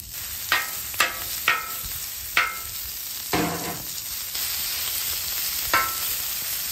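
Beef strips sizzle on a Blackstone griddle, a steady close frying hiss broken by several sharp scraping clinks of a spatula at irregular intervals, with no talking.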